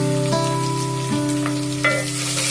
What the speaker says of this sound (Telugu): ఉల్లిపాయలు కొంచెం వేగాక కొద్దిగా అల్లము, వెల్లుల్లిపాయ పేస్ట్ దంచేస్తున్నాను నేను.